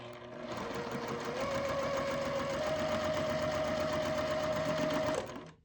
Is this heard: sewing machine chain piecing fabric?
yes